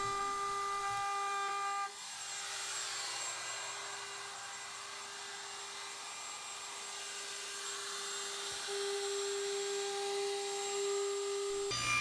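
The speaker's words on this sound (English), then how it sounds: "I'm going to put a little chamfer on both sides of this trim" A router cuts a small chamfer along cherry bookcase trim, giving a steady, loud, high-pitched machine whine that runs almost unbroken from start to finish, with no voices.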